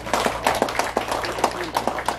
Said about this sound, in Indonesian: Tepuk tangan untuk itu semua.